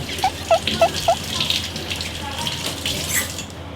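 Tap water runs into a kitchen sink while hands are washed. A few quick splashy blips come first, then a steady close hiss of flowing water, with no talking.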